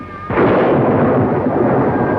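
Thunder from a lightning strike, a sudden loud rumble that begins after a faint tone and rolls on as a broad, dense roar to the end.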